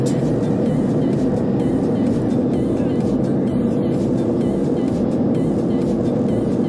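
Steady, dense engine roar inside an EVA Airlines airliner cabin climbing out a few minutes after takeoff on a flight from Taipei to Phnom Penh, a constant broadband drone with no breaks.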